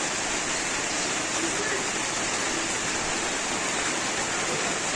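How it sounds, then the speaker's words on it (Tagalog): Steady rainfall outdoors near a rooftop where pigeons perch, a dense continuous hiss at even volume throughout, with no clear voices. "Umuulan ulan pa."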